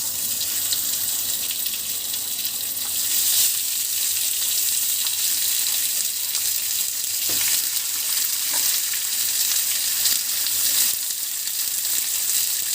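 Steak searing on a hot grill pan oiled with two spoons of oil and a knob of butter, a loud, steady hiss of sizzling fat with occasional crackles and no one speaking.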